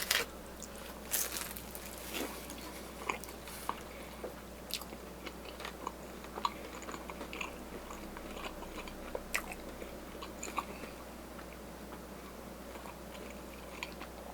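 A Papa John's Cool Ranch Doritos Papadia dipped in Cool Ranch sauce is bitten and chewed close to the mic, with repeated soft crunches and wet chewing over a steady low hum and no talking.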